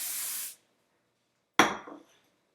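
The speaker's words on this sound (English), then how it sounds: "Maybe add some hairspray." A hairspray can hisses in one short, steady burst onto hair. After a second of silence, a sharp knock and rustle follow.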